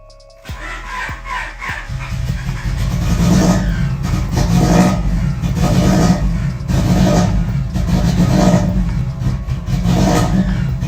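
A Honda Prelude car engine starting and then revving, a loud close mechanical roar that rises and holds with repeated surges in throttle, heard alone without talk.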